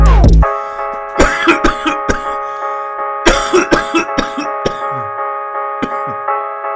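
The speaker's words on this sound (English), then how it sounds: "Coughing my lungs out" A run of short, repeated coughing bursts rises over a steady musical backing in a rap track, fairly loud and close, with a cough falling roughly every half second.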